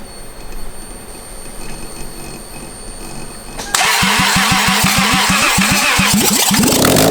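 A car engine, removed from the vehicle and sitting on a stand, cranks with a rapid chugging starter rhythm for a few seconds after a quiet stretch of low background noise, loud and close.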